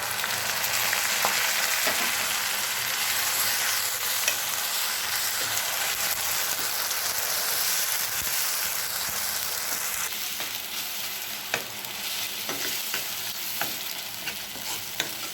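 A paste of ginger, garlic, coriander and clove sizzles loudly and steadily in a pan for the whole stretch, with occasional spatula taps and scrapes and no voices.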